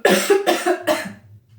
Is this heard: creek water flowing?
no